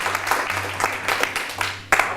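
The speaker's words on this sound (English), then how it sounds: "Can you give it a round of applause for this?" An audience at a BNI Achievers Chapter business presentation breaks into applause, a dense, steady patter of many hands clapping that carries through the whole stretch, with a sharper burst near the end and a low hum underneath.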